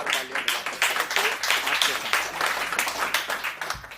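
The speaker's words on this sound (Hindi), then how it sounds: "बहुत जोरदार तालियां" Audience applause fills a Hindi kavi sammelan poetry gathering, a steady crackle of many hands clapping at moderate loudness, with a voice speaking over it throughout.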